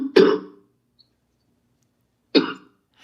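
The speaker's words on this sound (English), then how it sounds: "Coughing in our face." Two harsh, close coughs ring out about two seconds apart, each a short throaty burst followed by silence.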